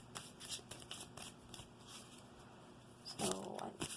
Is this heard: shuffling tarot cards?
yes